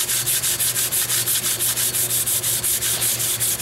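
Old paint sanded by hand off a wooden hand rail, a loud, close, rhythmic rasp of steady back-and-forth strokes, about five per second, with no voices.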